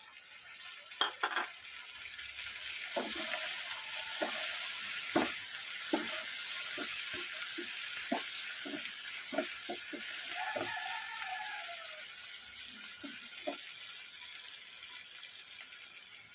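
Chopped tomatoes sizzle in oil with browned fried onions for a fish-head chorchori, a steady frying hiss broken by sharp clicks and scrapes of a stirring spoon, close and moderately loud, with no talking.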